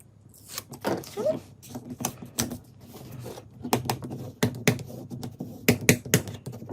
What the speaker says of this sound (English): And just really burnish with your bone folder.